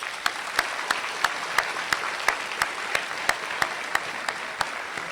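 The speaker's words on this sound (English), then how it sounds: "Let's give them a round of applause" A graduation audience claps for the teachers, a sustained wash of applause with regular sharper claps standing out near the front, continuing evenly throughout without voices.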